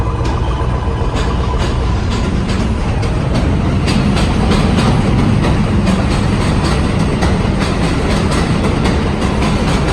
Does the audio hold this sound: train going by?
yes